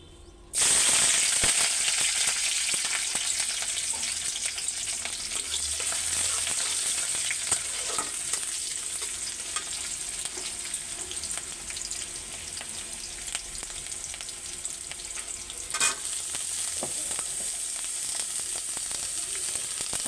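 Chopped vegetables sizzle steadily in hot oil in a pan, a dense, continuous frying hiss close up with occasional louder crackles and stirring clatter, no talking.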